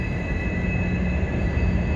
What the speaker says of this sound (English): There's a train line like right on that side of the river. Do you hear how loud that is?